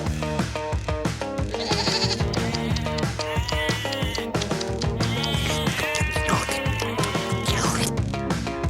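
Several goats bleating loudly and repeatedly, overlapping cries close by, with busy background noise.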